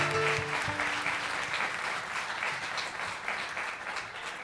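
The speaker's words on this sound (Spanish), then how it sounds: "esta cosa tan bonita que me hace sentir su aplauso de verdad" Applause from a festival audience, a full crowd clapping steadily and gradually easing off, with a faint musical tone lingering at the start.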